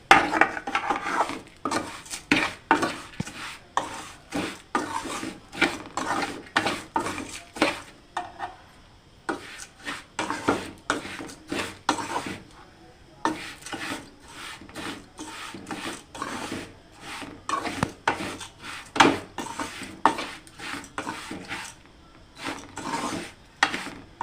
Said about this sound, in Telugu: ఇలాగ ఒక నిమిషం వేపుకోవాలండి.